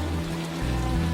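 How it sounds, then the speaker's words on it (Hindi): Heavy rain pours down at night as a dense, steady hiss of drops, loud and even throughout, with no voices. "उस रात फिर तेज बारिश शुरू हुई।"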